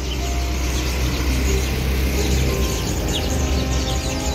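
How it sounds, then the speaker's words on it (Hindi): Birds chirp outdoors on the Maharaja Sayajirao University campus in Vadodara, their brief high calls faint and scattered beneath a loud, steady wash of traffic and outdoor noise, with no talking. "तो आप बर्ड्स के आवाज़ कितने सुंदर तरीके से सुन सकते हो, ये देखो।"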